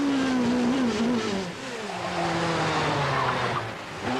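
Rally car engine on a closed public road hill climb at the 1991 Jersey Rally, revving hard toward about 11,000 RPM through only two gears; a loud, near, continuous high-pitched wail with falling and rising pitch and a hint of tyre noise.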